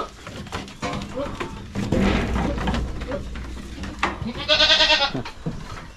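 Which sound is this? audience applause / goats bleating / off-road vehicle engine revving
goats bleating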